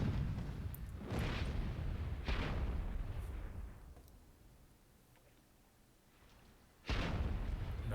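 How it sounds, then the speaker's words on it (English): Cannons in the Myth II Soulblighter video game bombard a hill with deep booming blasts, several heavy thuds early on, a quieter rumbling lull, then another loud boom near the end. "All of these cannons should be just bombing this hill."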